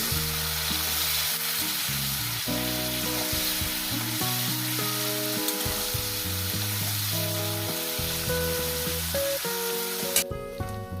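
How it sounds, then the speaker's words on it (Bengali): Parshe fish frying in a pan, a loud, continuous close sizzle running the whole time beneath a steady low tonal hum, with a brief crackle near the end. "দেখতেই পাচ্ছেন আমি কি করে মাছটাকে ভেজে নিচ্ছি একটু হালকা করে লাল লাল করে"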